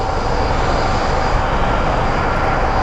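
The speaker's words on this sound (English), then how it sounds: "It's a WestJet 737-700 CT." WestJet Boeing 737-700 lined up at Sky Harbor International Airport, a loud steady jet engine roar with broadband rumble, close and unbroken, no voices.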